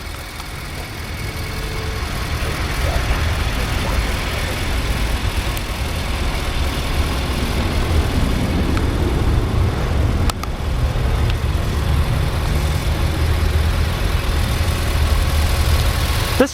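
A 2011 Infiniti QX56 AWD idles steadily just after start-up, with a low, even engine hum that holds at a constant moderate level throughout.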